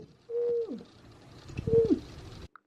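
A person imitates an owl with two hollow, hooting coos in a muffled voice, the calls close and clear with a short pause between them.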